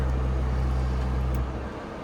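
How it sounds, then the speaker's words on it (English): A 1961 GMC truck with a 401 V6 engine runs at a steady, loud idle with a deep low rumble, easing slightly quieter toward the end, with no talk. "you can hear it's not the best sounding engine right now"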